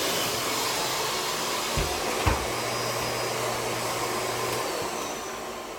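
A Miele Cat Dog U1 upright vacuum cleaner runs with a loud, steady motor roar and airy whoosh, close and constant throughout, with a couple of brief low bumps partway through and no talking.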